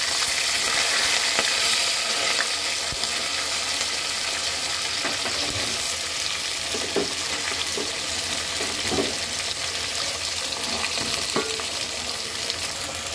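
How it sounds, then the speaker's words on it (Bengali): Cumin seeds and bay leaves sizzle in hot oil in a pan, a continuous close frying hiss with occasional soft stirring clicks and pops throughout. "জিরাটা আর তেজপাতাটাকে সুন্দর করে ভেজে নেব।"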